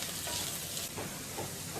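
Turmeric and chili powder are stirred into bitter gourd egg bhurji frying in a pan, giving a soft continuous sizzle with faint stirring scrapes, quiet and close.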